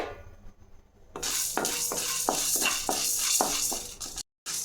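About 20 grams of chana dal pour into a pan and start dry-roasting over medium heat, a sudden rush of dry rattle followed by a steady, rhythmic scrape and rustle of stirring, close by, with no talk.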